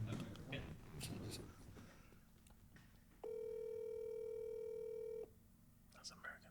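A phone call rings out over a loudspeaker as one steady electronic ringback tone lasting about two seconds, with casual voices chatting before and after it.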